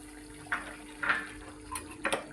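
Hot water poured into a simmering vegetable Amritsari curry in a few short splashy bursts, close and fairly soft, with no talk.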